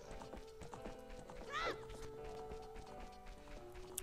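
Horse hooves clip-clop at a steady walking rhythm in The Legend of Zelda: Ocarina of Time, mixed with game music and a brief neigh midway, moderately loud throughout.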